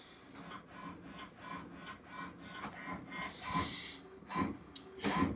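An HP OfficeJet 3830 all-in-one printer feeds and prints a page, with soft rhythmic mechanical shuffling and rubbing strokes that grow slightly louder toward the end, quiet and close.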